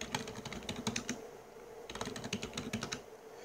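Quick, light keystrokes on a computer keyboard come in two close bursts of rapid tapping separated by a short pause, nearby and fairly quiet, with no talking.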